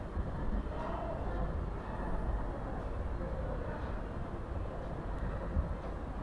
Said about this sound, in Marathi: ट्रेन पण काय मस्तपैकी फास्ट चालू होती.